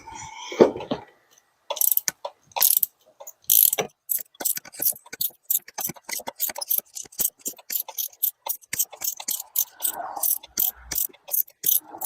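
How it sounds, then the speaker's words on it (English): A ratchet wrench loosening spark plugs from the N55 engine of a BMW X5 E70, with quick close clicks in a steady rhythm after a brief voice at the start. "start inserting it in the first cylinder and start removing the spark plugs"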